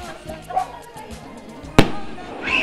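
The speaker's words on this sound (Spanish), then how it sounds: "Empezaron los cohetes." A single sharp firework or firecracker bang cracks out at a birthday celebration, loud and close, standing out over a background of people chatting and a rising whistle near the end.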